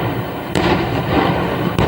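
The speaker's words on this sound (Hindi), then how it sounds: "देखिए एक के बाद एक सिलेंडर यहाँ पर फटते चले गए।" Gas cylinders explode one after another in a burning truck at Loni, with two sharp, booming bangs a little over a second apart cutting through a constant roar of flames and background noise.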